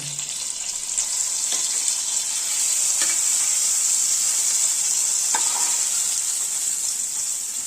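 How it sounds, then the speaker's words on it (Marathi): Raw banana slices frying in ghee with cumin, a steady close sizzle that holds evenly throughout, with a few faint clicks of a utensil against the pan. "साजूक तुपावरती जिऱ्याची फोडणी दिलेली आहे आणि छानपैकी आता खुसखुशीत खमंग असे काप आपण आता बनवणार आहोत."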